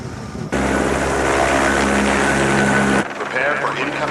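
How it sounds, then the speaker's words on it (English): Helicopter from a 1994 science-fiction film flying in, its rotor and engine roar loud and steady for about two and a half seconds before cutting off, with quieter mixed noise after. "Prepare for incoming chopper."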